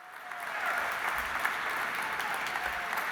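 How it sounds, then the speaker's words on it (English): A crowd at an opening evening for an Auschwitz exhibition applauds for Michael Berenbaum, steady, full clapping that swells quickly and holds for several seconds. "Let's give Michael Berenbaum a big round of applause."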